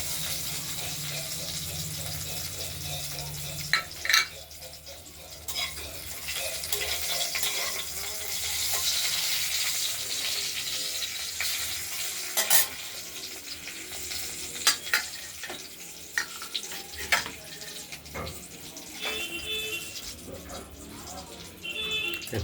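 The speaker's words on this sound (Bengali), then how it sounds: "একটু ভাজা ভাজা করে নেব।" Bay leaf, dried red chilli and cumin seeds sizzle and crackle in hot oil, a steady close frying hiss with scattered pops and a few stirring clinks throughout, no voices.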